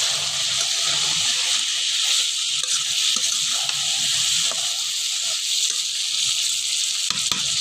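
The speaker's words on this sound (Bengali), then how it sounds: "এখন আমি ফেবজাটা দিয়ে দিব। এখানে আমি এখন ফেবজাটা দিয়ে দিলাম।" Beef lung dropped into oil and fried spice paste sizzles with a loud, continuous hiss close up, with faint stirring and scraping in the pan and only slight talk.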